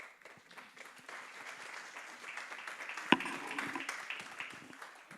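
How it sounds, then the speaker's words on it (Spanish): Applause from a church audience greeting a guest speaker, a steady wash of clapping that holds for several seconds at moderate level, with one sharper clap standing out midway. "No estoy acostumbrado a que me aplaudan."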